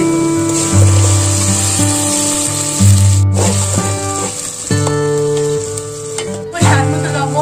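Blended spice paste hits fried onions in a pan for a beef curry, giving a steady hissing sizzle that runs throughout with a few stir scrapes, under loud sustained tonal background music.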